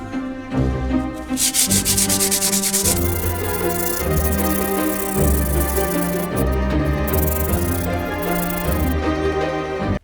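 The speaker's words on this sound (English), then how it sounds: "after the sanding of this concrete block" Close, steady rasp of 400-grit sandpaper rubbed back and forth over a concrete block, continuous and fairly loud with short pauses between strokes.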